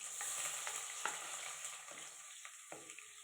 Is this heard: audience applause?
no